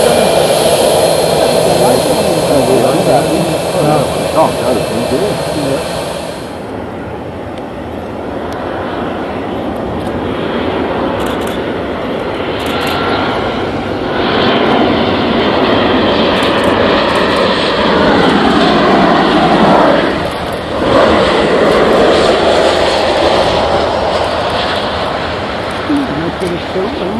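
Airplane landing at Liverpool Airport, a loud roaring jet engine with a high whine that drops off, then a sustained rumble that swells and fades, with people talking over it.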